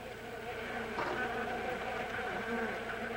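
Bees buzzing around a hive in the Amazon rainforest near Manaus, a steady close drone of many wings that swells briefly midway.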